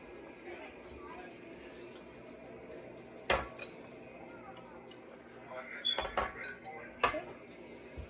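Eggs, cheese, a pound of bacon and a pound of sausage get mixed together in a bowl: soft continuous scraping with a few sharp utensil knocks against the bowl, close by.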